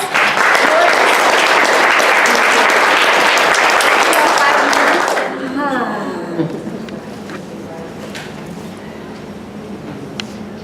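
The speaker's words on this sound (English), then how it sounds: "Big round of applause." Loud, dense applause from a large crowd for about five seconds, then it fades into scattered clapping and murmuring.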